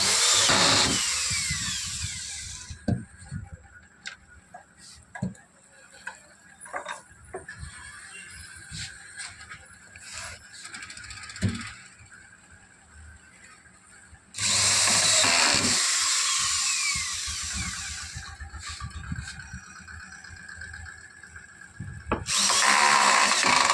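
A power drill drives screws into a pocket channel being fitted in a temple, giving long loud whirring runs broken by quieter clicks and handling knocks.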